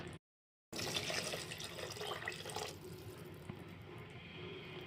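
Water pouring steadily into a cooking pot of spicy coconut-milk drumstick and eggplant curry, a continuous splashing rush after a brief silence, gradually settling into a softer trickle.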